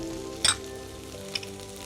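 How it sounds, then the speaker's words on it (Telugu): Carrots and other vegetables go into a hot pan for a paneer and amaranth pulao, making a steady close sizzle. One sharp clink of a utensil sounds near the start and a lighter tap comes later. "ఇప్పుడు వెజీస్ కూడా యాడ్ చేసేద్దాం. ఫస్ట్ కొంచెం క్యారెట్,"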